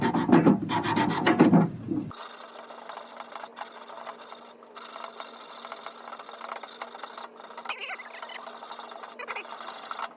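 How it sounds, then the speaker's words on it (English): Abrasive sanding rasps loudly against a metal edge, taking it down to bare metal, in rapid strokes for two seconds, then gives way to quieter intermittent scraping over a steady background hum. "We'll properly sand that edge to make sure that we've got bare metal on it"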